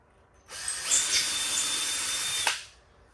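A power drill turns an undersized reamer through a hole in aircraft wingtip and strut work, giving one close, steady two-second whir that ends with a brief catch.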